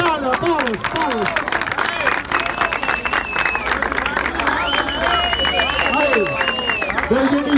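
Crowd at a hip hop rap battle final claps and cheers steadily throughout, with shouting voices and whoops mixed into the dense, continuous applause.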